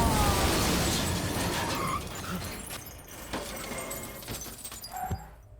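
In an action scene from the Telugu film Duvvada Jagannadham, a car comes crashing down: a loud, dense burst of crunching and shattering debris gives way to scattered clangs and pops that fade out.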